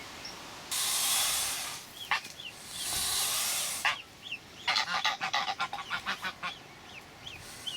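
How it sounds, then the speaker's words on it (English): Geese on a lagoon give loud nasal honks in quick repeated bursts, mixed with sharp hissing rushes, close by and outdoors. "Chase all these geese out of the water."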